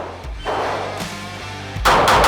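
A Glock 48 handgun fired rapidly at a shooting range, three loud, sharp reports close by, the first two spaced evenly and a third closer to the second, each followed by an echoing tail.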